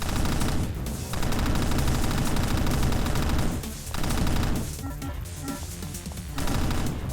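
Rapid bursts of laser weapon fire in the sci-fi shooter game Void Raiders, dense and continuous, broken by a few brief pauses, with no one talking.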